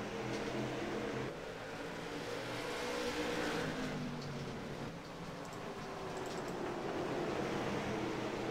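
A late model race car accelerating at South Boston Speedway, a continuous distant engine roar with crowd and track ambience washing steadily throughout.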